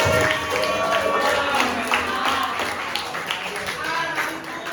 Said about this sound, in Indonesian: Oke, bagus sekali tepuk tangan.